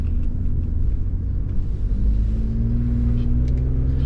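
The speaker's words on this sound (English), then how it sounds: "do a little downshifting into a turn here" Gen 1 Ford F-150 Raptor engine downshifting through the gears into a turn via paddle shifters, a loud, steady low rumble with rising revs, close and continuous with no talk.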